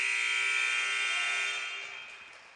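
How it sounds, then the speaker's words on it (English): A buzzer ends a round of a 3-point shootout at a high school boys basketball showcase, one long, steady electronic drone lasting about two seconds before it fades out, loud and clear in the gym. "There's the buzzer."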